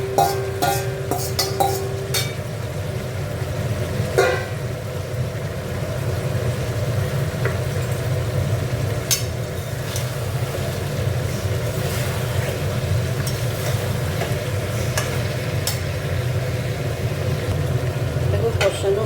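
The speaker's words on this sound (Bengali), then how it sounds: "এবার ফুলকপি আর আলুটা দিয়ে এবার একটু কষে নেব।" Cauliflower and potato stir-fried in a pan make a continuous low sizzle with occasional scraping and clinks of a utensil, steady for the whole stretch and with no talking.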